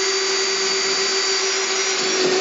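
A power drill bores a second hole through a budget fly-fishing kayak, giving a steady, loud, continuous whine with a strong constant tone that holds for the whole stretch, with no talk over it.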